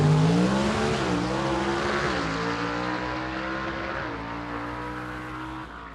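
A gasser drag race car with a 385 cubic inch small block roars through its run at a test and tune event, its loud engine note climbing in several gear steps and then slowly fading as it pulls away.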